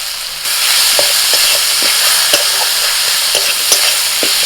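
Ground spices, turmeric, Kashmiri chili powder and coriander powder with dried red chilies and salt, fry in a pan as a loud, continuous hiss, while a spoon scrapes and stirs in irregular light taps.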